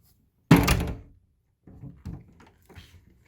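A cremone bolt catch on a small interior French door latches with one solid thunk at close range, followed by a few softer clicks and rattles of the hardware settling.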